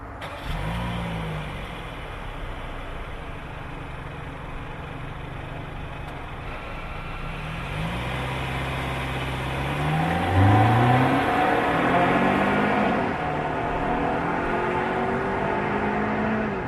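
Hyundai Tucson XRT with a naturally aspirated four-cylinder engine, accelerating hard through several gear changes as the engine note rises and drops back, heard from inside the cabin with building road noise.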